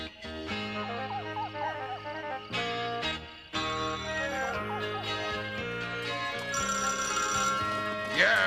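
An old-style telephone bell rings in repeated bursts in a small-town setting, sounding close and fairly loud and mixing with a music score, with no other sounds standing apart.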